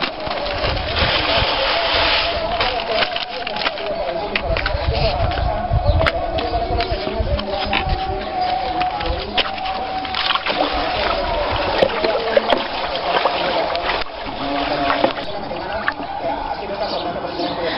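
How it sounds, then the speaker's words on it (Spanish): A stick stirs caustic soda into water, giving a continuous close sloshing and swirling with scattered splashes and scrapes, steady and fairly loud throughout. "hay que remover con un palo hasta que esté bien disuelto"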